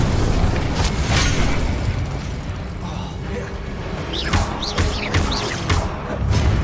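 A Confringo blasting spell exploding in the Hogwarts Legacy video game, loud booming blasts and rumbling debris with clattering and creaking effects, dense and continuous.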